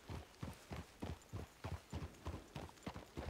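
Horse hooves clip-clop at a steady, even trot in a western video game, about a dozen close, crisp beats with nothing else heard.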